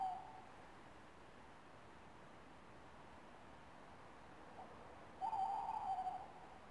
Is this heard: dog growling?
no